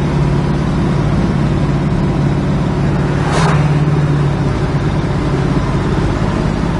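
A 1968 Chevrolet Camaro cruising down the road, its engine a steady low drone with road rumble, close and continuous, briefly swelling midway.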